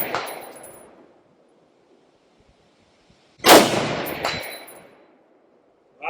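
Two loud gunshots from an Aero Precision M5 .308 (AR-10 style) rifle firing 7.62x51, each with a sharp crack and a ringing tail; a third shot begins at the very end after a quiet gap.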